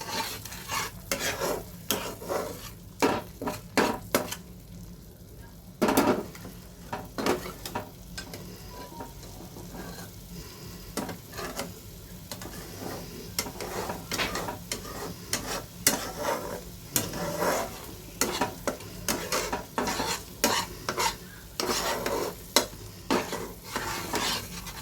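Small shrimp and spices being stir-fried in a pan for a prawn malai curry, a steady near sizzle broken by repeated scraping and clinking strokes of a spatula against the pan, with no talking.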